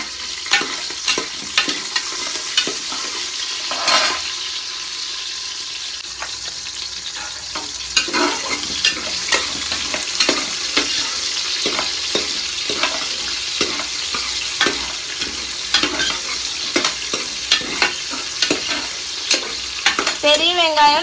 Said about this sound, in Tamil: இப்போ நான் வந்து வெங்காயத்தை உள்ளே போட்டேன்